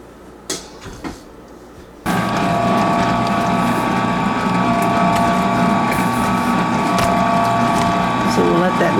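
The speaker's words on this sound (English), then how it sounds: "put it on my mixer" A stand mixer churns pepperoni roll dough, switching on abruptly after a couple of light clunks and then running as a loud, steady mechanical whir with a gear-like rattle, close up.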